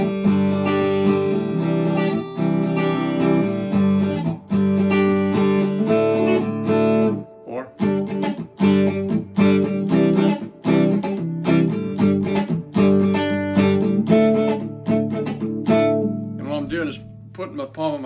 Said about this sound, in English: You could strum a little bit lighter. You could use a little bit of palm muting.